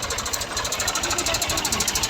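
A 2005 Fiat 480 tractor idles close by, its engine running in a steady, rapid knocking pulse that stays even throughout the short stretch.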